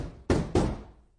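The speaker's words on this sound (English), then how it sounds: "Uncle Vernon knocks on the glass." Two quick knocks on glass, close and crisp, each ringing briefly before fading out.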